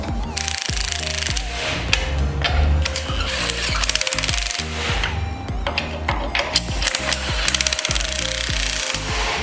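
A ratchet or impact tool tightens bolts on a steel wheel carrier bar being fitted to a Nissan Patrol Y61 GU, with loud, rapid hammering bursts separated by short pauses, close up and repeating throughout.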